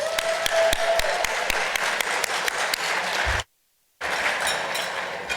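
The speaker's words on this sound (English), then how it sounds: "By a round of applause" An audience applauds at the Open Education Conference 2024 keynote, steady dense clapping filling the room, breaking off into a moment of silence before resuming just as strongly.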